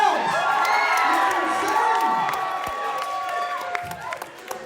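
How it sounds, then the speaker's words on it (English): A comedy-show crowd at a live stand-up special cheers, whoops and applauds loudly, a sustained roar of voices and clapping that slowly thins toward the end. "Make some noise for yourselves."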